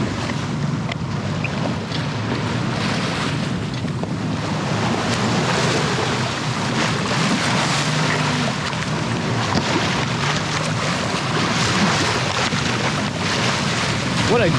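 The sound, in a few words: sailboat under sail on a calm sea with small rollers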